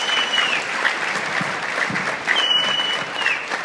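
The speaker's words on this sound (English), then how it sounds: "please let me have one more big round of applause right here." Steady applause from a crowd at a charity poker tournament, dense clapping sustained throughout with no voices standing out.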